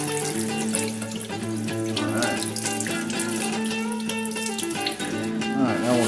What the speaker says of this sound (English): we're gonna rinse it off with cold water